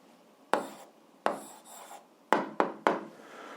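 Pen writing an answer on paper, five separate short scratching strokes, each a sharp onset that fades over about half a second, close and quiet with no talk.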